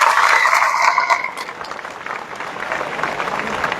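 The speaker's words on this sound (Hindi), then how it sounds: "तालियां बजाई जाए।" Loud burst of applause from an assembled crowd at a school welcome ceremony for a cabinet minister in Faridabad, peaking at the start and then thinning to a lighter, sustained patter.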